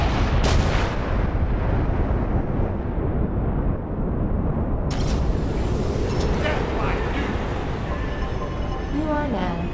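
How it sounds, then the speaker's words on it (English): A close-range nuclear missile strike in the video game Darwin Project hits with a massive, loud, sustained rumbling blast that rolls on for several seconds before thinning out, followed by scattered lighter game effects. "Here's what it looks like when you are nuked from close range."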